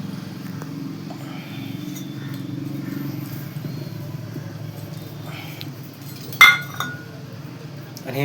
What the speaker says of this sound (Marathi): आणि हे मिश्रण आता एका चमच्याच्या साहाय्याने असं ढवळून घ्यायचं.